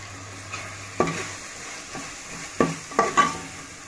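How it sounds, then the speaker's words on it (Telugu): Chicken curry sizzling in a pan is stirred with several distinct scraping strokes over a low, steady frying hiss, close and moderately loud. "దీని బాగా మిక్స్ చేసుకోవాలి"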